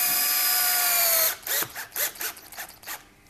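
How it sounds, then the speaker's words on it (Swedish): An electric drill bores into the rear seal of an M41 gearbox, a loud steady high-pitched whir for over a second, followed by several short bursts of grinding and ratcheting as the bit catches. "Jag borrar ju in en"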